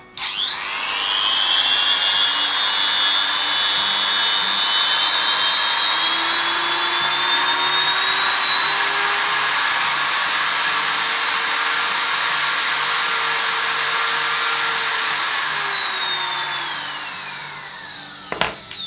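A 400 W multi-purpose rotary grinder whines steadily at close range for about seventeen seconds, its pitch climbing in steps through its speed settings before it cuts out and spins down.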